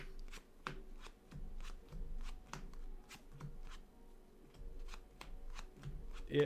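Paper Magic: The Gathering cards are riffle-shuffled repeatedly at a tabletop Commander game, giving a steady series of crisp, close flutters and snaps with faint room noise between them.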